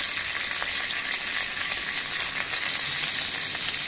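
Curry leaves frying in hot oil for a drumstick-pod curry: a steady, bright sizzle with small crackling pops throughout, close and continuous, no voices.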